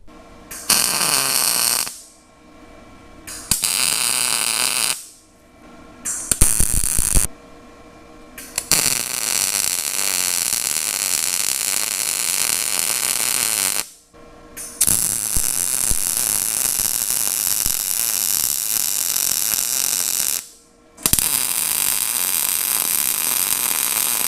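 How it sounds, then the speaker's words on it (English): Angle iron pieces being welded together: long stretches of loud, steady crackling buzz from the arc, broken by several brief pauses and short bursts, close up with no talking. "So let's go ahead and weld these together now."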